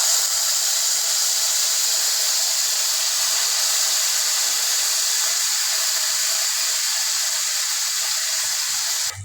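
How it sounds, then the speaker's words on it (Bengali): Marinated chicken for lemon chicken sizzles in hot oil, a steady, bright, close hiss that holds evenly throughout without talking. "এবার আমি ম্যারিনেশন করা চিকেনটা দিয়ে দিচ্ছি।"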